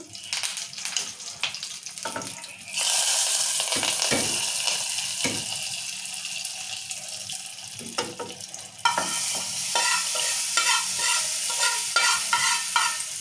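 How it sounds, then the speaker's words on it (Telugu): Curry leaves crackle in hot oil for a dal tempering, bursts of sizzling with stirring clatter, then a louder steady frying hiss that surges again partway through. "కరివేపాకు కూడా వేగిపోయింది చూడండి"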